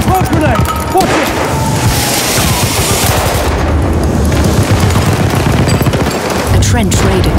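Battlefield combat roars continuously at close range, with dense machine-gun rattle, heavy booms and a crashing blast from a grenade, all mixed with shouting voices throughout.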